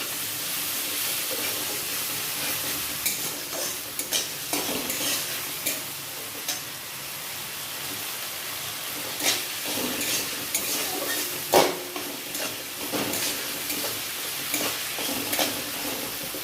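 Ginger and green chilli paste sautés in hot oil for a vegetarian mixed paneer dish, with a steady sizzle, occasional spoon scrapes and stirring clicks, close and continuous.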